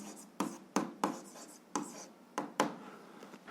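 A pen writes out an algebra equation on paper, a series of short scratching strokes in an irregular rhythm, close and fairly faint, with no talk over it.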